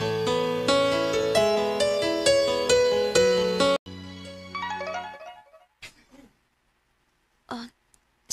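A melodic phone text tone plays a bright, repeating chime of a few seconds, then cuts off, followed by quieter music-like notes and brief sounds.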